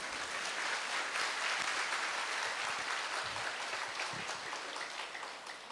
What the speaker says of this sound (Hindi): चलो मैं ताली बजाता हूँ।